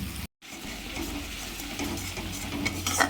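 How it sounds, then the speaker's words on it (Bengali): Onion and ginger-garlic paste fry in a wok, a close, steady sizzle with scraping stir strokes and a brief gap near the start, with no voices. "পেঁয়াজটা ভেজে নেওয়ার পর আদা রসুনের বাটাটা দিয়ে ভালো করে ভেজে নিচ্ছি।"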